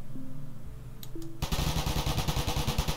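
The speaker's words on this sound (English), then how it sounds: "Minigun." Minigun from MrCrayfish's Gun Mod firing in Minecraft 1.18.2, a sudden loud, rapid continuous burst of gunfire that starts after a short quiet stretch of game sounds and keeps rattling steadily to the end.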